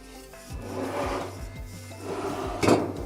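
Cloth wiping subwoofer surfaces with alcohol, close-up rubbing and scraping strokes with a few light knocks and one sharper scrape near the end, no speech.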